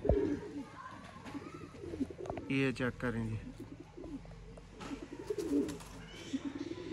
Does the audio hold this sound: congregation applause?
no